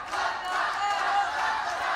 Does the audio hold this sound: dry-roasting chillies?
no